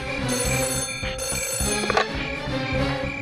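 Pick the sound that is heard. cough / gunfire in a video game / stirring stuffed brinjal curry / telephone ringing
telephone ringing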